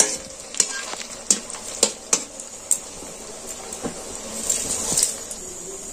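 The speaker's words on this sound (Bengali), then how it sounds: "এবার এইটাকে আমি উল্টিয়ে ভেজে নেব।" Food sizzles steadily in hot oil as a utensil scrapes and taps the pan several times while the pieces are turned, close and clear with no talking.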